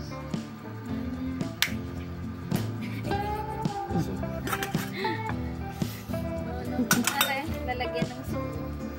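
Metal ladle and dishes clinking and clattering as camping kitchenware is unpacked, with repeated close, bright clinks scattered throughout and people talking nearby.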